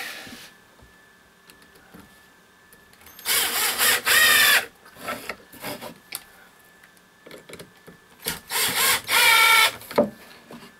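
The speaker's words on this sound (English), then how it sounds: "I'm going to preset the screws in the wood." A power drill drives screws into wooden staircase boards in a tiny house, two loud bursts of whirring each lasting about a second, separated by quieter handling clatter.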